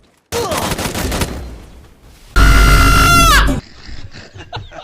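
Gunfire in the Free Fire video game: a loud burst of rapid shots, then a second, even louder sustained volley with a ringing, descending tone, ending abruptly into a quieter background.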